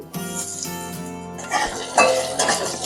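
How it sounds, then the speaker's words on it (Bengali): Cut potatoes dropped into hot oil with fried spice tempering in a pan, bright clinks and scraping stirs followed by a rising sizzle, close up with no talk. "এবারে আমি কেটে রাখা আলুগুলোকে দিয়ে দিচ্ছি।"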